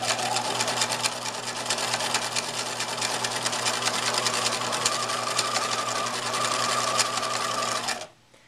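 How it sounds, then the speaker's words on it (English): A Bernina 1008 sewing machine runs steadily while sewing decorative stitches, a close, even mechanical whir with rapid needle ticking that stops abruptly just before the end. "the machine needle has to move back and forth quite a bit."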